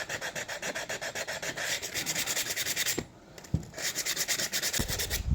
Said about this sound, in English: started using a bit heavier grit sandpaper that don't seem to do no harm